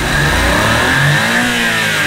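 A cheap mini van's turbocharged engine revs during a wastegate function test, a loud steady mid-pitched roar close by, with pitch sweeps rising and falling as the throttle changes.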